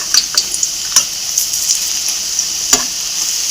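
Egg and potato fritters fry in hot oil with a steady, close sizzle, broken by scattered sharp crackles and pops throughout, and no voices.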